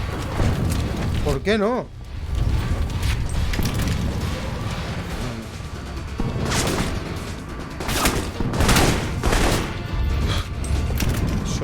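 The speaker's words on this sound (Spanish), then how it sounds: "Explosiones por todos los lados." Explosions and gunfire from the video game Alpha Protocol, a run of loud broadband bursts and booms spread across the stretch with a near-constant roar, while someone talks over the action throughout.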